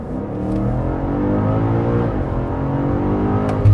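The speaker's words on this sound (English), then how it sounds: "So now I'm in a fully normal, efficient, comfort four-wheel drive. Get a nice high gear, just gonna floor it." BMW M5 (2022) in comfort mode, four-wheel drive, high gear, under full-throttle acceleration: a loud, steady engine roar climbs in pitch as speed builds, heard from inside the cabin with no talk.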